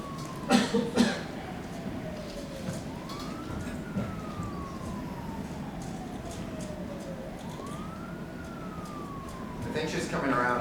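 An ambulance siren effect in a stage play wails in two slow rising and falling sweeps at moderate level, with a few sharp coughs near the start.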